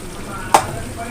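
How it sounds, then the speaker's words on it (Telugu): Chicken curry cooking in a pan with tomato paste being stirred in, giving one short scrape and sizzle against a faint background. "మిక్సీ మొత్తం కలుపుకొని మనం సిమ్లో కొంచెం మీడియం సైజులోనే మగ్గించుకోవాలండి."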